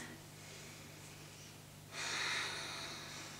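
A single deep breath drawn in during a yoga session, a soft, quiet airy inhale with a clear rise in the second half, over a low steady room hum.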